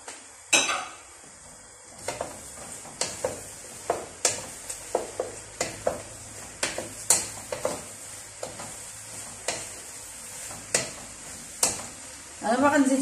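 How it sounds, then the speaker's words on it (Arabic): Eggplant frying with onion in a pan, sizzling steadily while a spoon scrapes and clinks against the pan in repeated irregular strokes. "لما نزلت لنا واحد شويه السميته البصله، حنا غنزيدو لها دوك الدنجال ان شاء الله، حتى هو خصو يتقلى شويه"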